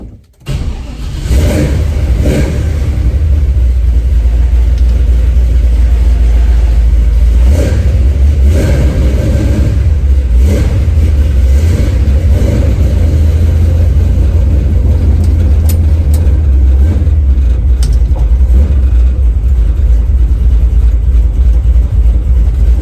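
1970 Chevy Nova V8 engine, loud and close, starting up, revving through several throttle blips and then settling into a rough rumbling idle, with no talking.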